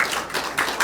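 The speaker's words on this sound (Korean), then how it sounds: "우리 박수로 환영하겠습니다" Short burst of congregational clapping at a Sunday church service welcoming a deacon, a few rhythmic hand claps close by with no voices over them.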